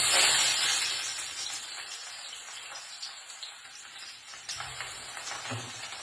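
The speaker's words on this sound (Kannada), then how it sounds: "ಸ್ವಲ್ಪ ಈರುಳ್ಳಿ ಎಣ್ಣೆ ಒಳಗೆ ಫ್ರೈ ಆಗಬೇಕು" Onions frying in oil for a Kannada menthe kadubu fenugreek-leaf dish, a steady, soft crackling sizzle with occasional stirring clinks, heard alone and fairly close.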